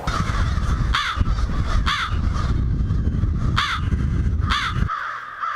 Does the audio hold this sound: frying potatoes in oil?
no